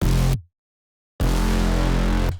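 Layered sub and mid bass synths with distorted brass stabs play a heavy, loud low-end hit, then after about a second of silence a longer, thick, gritty burst follows.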